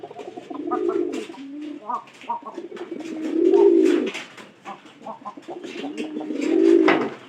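Newly kept pigeons coo in a cage, several deep throaty rolling calls rising and falling in a repeating rhythm close by, with faint chirps and small rustles between the phrases.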